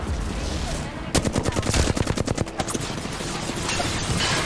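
Rapid bursts of gunfire from weapons in the video game Apex Legends, a dense rattling string of sharp shots over steady in-game ambience and background noise.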